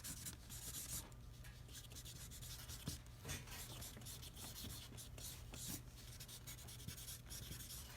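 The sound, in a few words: drawing with washable markers on watercolor paper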